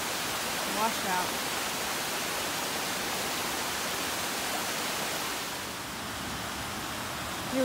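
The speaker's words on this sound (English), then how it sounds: "Here we come to a really nice bridge across the Thornton Creek. The water coming down." Thornton Creek rushing beneath a trail bridge in the North Cascades, a loud, steady broadband roar of flowing water throughout, with faint brief voice sounds.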